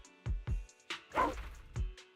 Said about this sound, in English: It's the dog.